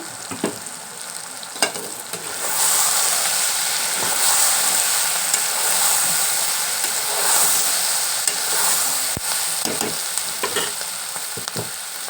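Ivy gourd (tindora) and egg curry frying in a pan, a steady close sizzle and hiss that runs throughout, with occasional stirring clicks and scrapes and no talk.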